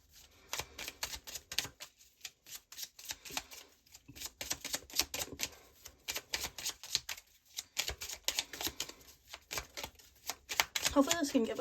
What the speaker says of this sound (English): Alright, let's get some oracle cards.